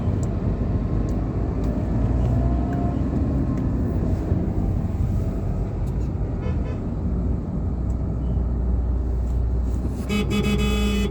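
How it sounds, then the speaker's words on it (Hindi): A congested city road in a traffic jam gives a dense, steady roar of idling and creeping engines, with a few horn toots sounding near the end, loud and continuous with no talk. "देखो ट्रैफिक जाम कितना होता है।"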